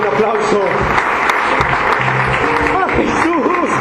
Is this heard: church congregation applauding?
yes